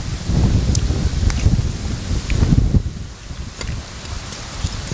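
Strong, cool wind blows outdoors during cooking of steamed fish with herbs. It gusts and rustles steadily and fairly loud, and nobody speaks.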